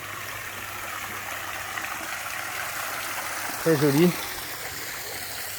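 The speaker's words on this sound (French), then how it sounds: "nous arrivons au niveau de la cascade extérieure, avec l'eau qui ruisselle de la piscine à débordement." Water cascades from an infinity pool down an outdoor waterfall at a luxury villa in Kamala, Phuket, a steady mid-distance rushing wash running throughout while a voice briefly speaks near the end.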